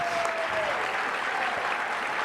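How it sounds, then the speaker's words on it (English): An audience at a breakfast event claps in a sustained, even round of applause, many hands close together throughout, with a faint voice briefly heard beneath. "let's give them all another round of applause."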